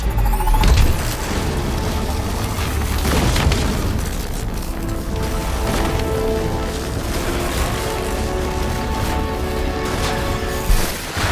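Iron Man's unibeam blast in the Iron Man VR game, a heavy booming burst at the start that gives way to sustained roaring, rumbling game noise with tonal hums, loud and close.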